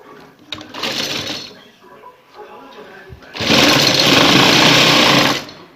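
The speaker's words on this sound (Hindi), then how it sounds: "पहले इस साइड पर लगाएंगे, ताकि दूसरी तरफ हमने हुक्के लगानी है तो वो हमें हुक लगाने में आसानी है। उसको थोड़ा सा नीचे से फोल्ड करेंगे, फोल्ड करके नीचे रखेंगे और इसके ऊपर इसको सिलाई लगाएंगे" Sewing machine stitching a folded fabric strip onto a garment neckline: after a stretch of talk, the motor runs in one loud, steady, close whir for about two seconds.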